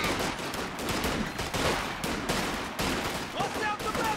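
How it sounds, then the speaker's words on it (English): Rapid machine-gun bursts crackle almost without pause across a Company of Heroes 2 battlefield, dense overlapping gunfire at steady loudness with occasional sharp pops. "Get onto the machine gun."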